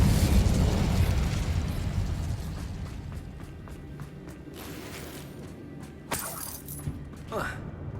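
Incendio fire spell cast in Hogwarts Legacy, a rumbling burst of flame and crackling magic, followed by sharp pops and a brief impact, with game voices over it.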